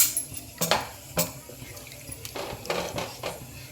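Spice powder being stirred with a spoon into boiling tomato rasam in a pot, a series of irregular metallic clinks and scrapes over a soft bubbling, liquid background.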